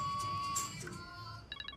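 A phone ringing indoors with a steady repeating electronic tone, moderately faint, under a low room hum.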